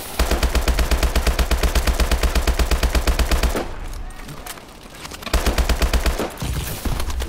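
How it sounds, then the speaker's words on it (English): Rapid automatic gunfire in the video game Call of Duty Advanced Warfare, a fast even burst of shots that stops for about two seconds, then resumes loud and close. "Oh god, I'm just getting shot from everywhere."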